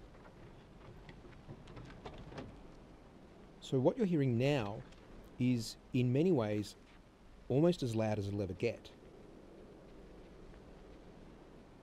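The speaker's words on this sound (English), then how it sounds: "The gentle wind sound does change sometimes" Gentle wind ambience from the video game Limbo, a soft, steady breathy whisper heard alone at first, then continuing faintly beneath someone speaking.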